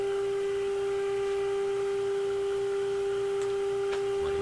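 A steady 400 Hz test tone plays through a Majestic Model 1A59 tube radio, a single unbroken pitch with faint scratchy crackle and a couple of brief clicks underneath.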